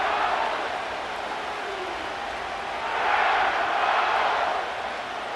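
A stadium crowd roars and cheers steadily inside SoFi Stadium in Inglewood during an NFL broadcast in Madden NFL 25, a loud, dense wash of voices that swells louder midway through.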